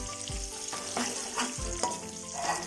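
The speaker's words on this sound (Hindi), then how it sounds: "इसमें किशमिश और नारियल भी शामिल कर देंगे, इनको भी हल्का सा ब्राउन कर लेंगे" Raisins and coconut fry and sizzle in a pan while being browned for Punjabi jaggery rice, a steady crackling hiss broken by a few soft stirring scrapes.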